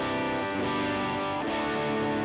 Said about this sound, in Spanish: la distorsión es una simulación de un Angry Charlie, igual de JHS